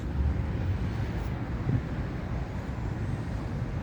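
Steady low road noise of cars passing on a street in Istanbul, a continuous rumble with no clear individual passes, fairly distant and unbroken by talk.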